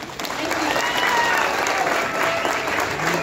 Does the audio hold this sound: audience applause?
yes